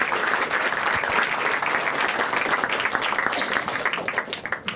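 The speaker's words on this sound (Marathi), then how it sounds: "ठीक आहे एकदा टाळ्या वाजवा दोघांसाठी" A stand-up comedy crowd claps for two people in a sustained burst of dense applause, loud and continuous throughout, tapering slightly at the very end.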